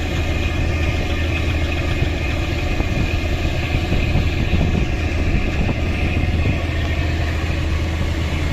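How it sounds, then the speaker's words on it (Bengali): A single-engine river launch cruising on the river between Dhaka and Shariatpur: a steady, loud, low diesel drone and rumble that continues without a break, with no voices. "এক ইঞ্জিনের নৌযান"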